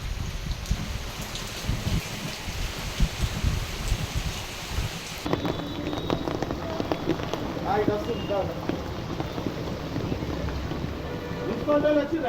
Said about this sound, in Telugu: మెదక్లో భారీ వర్షాలు దంచి కొడుతున్నాయి.